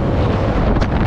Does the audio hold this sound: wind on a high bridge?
yes